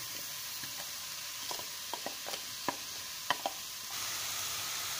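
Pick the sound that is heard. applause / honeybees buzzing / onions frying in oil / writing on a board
onions frying in oil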